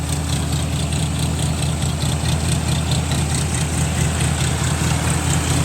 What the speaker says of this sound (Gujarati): તમે એનું ફાયરિંગ સાંભળો ટ્રેક્ટરનું એકદમ લોડ ફ્રી ટ્રેક્ટર ચાલે છે